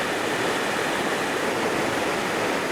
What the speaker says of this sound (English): Look how it just bubbles up.